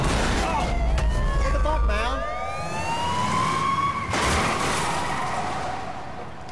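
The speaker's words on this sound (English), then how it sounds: "That's what the siren's for." A police car siren wails close and loud, its pitch sweeping and shifting as it passes. Rough road and engine rumble sit underneath, and the siren fades toward the end.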